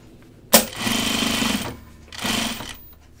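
A sewing machine stitches a dopp kit in two short runs of rapid mechanical whirring, the first starting with a sharp clack, separated by a brief pause, close and clear.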